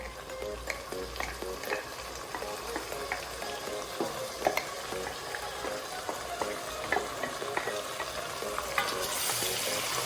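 Mutton being stirred with freshly ground masala in a pan for nati-style green mutton biryani, a steady close sizzle with repeated scraping and clacking strokes of the spoon throughout, no talk.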